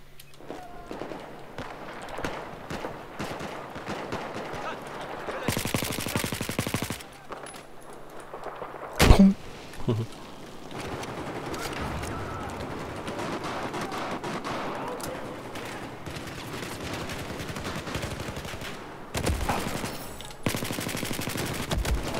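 Battlefield 4 gunfire, bursts of automatic rifle fire and distant explosions with rattling shots coming in repeated bursts across the round, with game noise and occasional player speech underneath.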